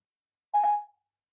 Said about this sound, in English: Calling Ross Morrison mobile.